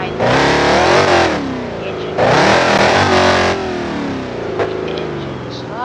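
Monster truck engine in the BeamNG.drive driving game revving loudly in two long, sustained roaring bursts with a shifting pitch, a quieter stretch between them, and a voice talking over the noise.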